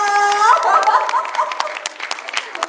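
Scattered audience applause at a presentation of Elmarino Blanc, a burst of clapping that rises over fading tones and a voice, then thins into uneven claps.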